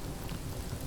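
Rain falling in the survival building game Rising World, a steady, even hiss of drops with a low rumbling undertone, soft and continuous through a brief moment with no voices.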